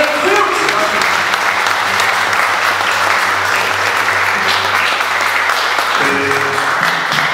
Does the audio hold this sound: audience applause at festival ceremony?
yes